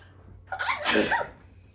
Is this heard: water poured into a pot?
no